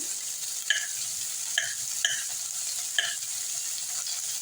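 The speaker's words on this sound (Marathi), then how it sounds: "सोप छान अशी परतून घेऊया आपण" Fennel seeds and onion fry in hot oil in a pan, a steady soft sizzle punctuated by four sharp clinks of a spoon against the pan.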